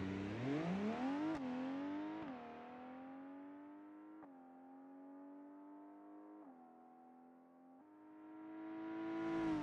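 A car engine in BeamNG Drive accelerates through several gear changes, each upshift dropping the climbing tone before it rises again, ending with a louder surge.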